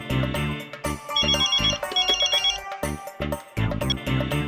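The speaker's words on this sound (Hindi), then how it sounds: "मैं तो उसको फोन लगा रहा हूँ" A telephone ringtone plays during an outgoing call, a repeated electronic melody in bursts with short gaps, loud and close, with no talk over it.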